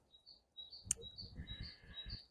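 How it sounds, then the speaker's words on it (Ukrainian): A small bird sings in short, high, thin chirps and trills, fairly faint and a little distant, over a low murmuring background. "як вона співає, ця пташечка"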